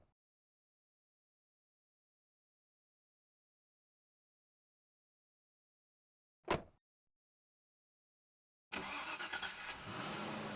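Land Rover in the PS1 racing game Test Drive: Off-Road: after a long silence a short sharp burst, then a steady loud engine drone that runs to the end.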